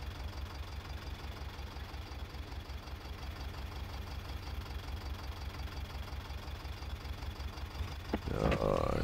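A tractor engine idles in Farming Simulator 22 with a steady, low, rhythmic chug that holds evenly throughout, followed by a short click and a slight rise at the very end.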